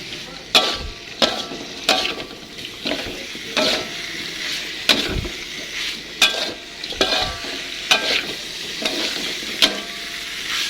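Beef liver and potatoes frying in a spice paste for sambal, a continuous sizzle broken by repeated loud scraping and clacking strokes of a spatula stirring against the pan, close and busy throughout.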